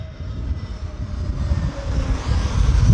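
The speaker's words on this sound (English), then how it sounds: "You can hear one powering up on the other side" An airliner's engines power up at London Heathrow, a deep roar that grows steadily louder over a few seconds, heard from some distance across the airfield.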